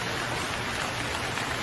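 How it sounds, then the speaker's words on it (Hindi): Steady cartoon rain pours down, a dense continuous hiss of drops filling the scene with no talk over it. "बारिश शुरू हो गई।"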